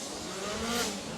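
Fujinaka's 20B rotary-engined drift car at a Formula Drift Japan round, its engine a high, buzzing roar that swells briefly as it passes, with tyre noise mixed in.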